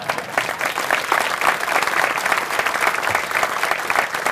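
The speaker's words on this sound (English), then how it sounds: "and then give him a round of applause" Dense, steady applause from an audience at a military change of command ceremony, a broad wash of hand claps sustained evenly throughout with no voices rising above it.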